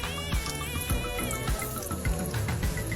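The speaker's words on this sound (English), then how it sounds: "And of course, the leaves need to get a shower too." Water pours and splashes steadily from a tap or sink while a Cissus striata and Hoya polyneura houseplant are watered and their leaves showered, running continuously at close range with no voices.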